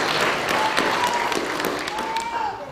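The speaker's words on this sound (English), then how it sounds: "Let us welcome her with an applause." Lutheran church congregation applauding to welcome a new member during a Sunday worship service with Holy Communion, a steady, full wash of clapping that eases slightly toward the end, with a faint voice or tone beneath.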